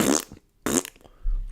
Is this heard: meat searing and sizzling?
no